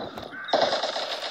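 AK rifle fire in a video game: a loud, dense burst of broadband shots that starts abruptly partway in and keeps going to the end, following quieter scattered game noise.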